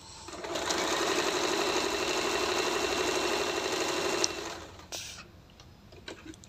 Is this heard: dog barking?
no